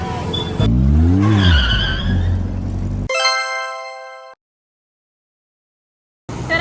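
A car engine roars and tires screech as the vehicle moves close by, followed by a bright electronic tone, then silence before noise returns.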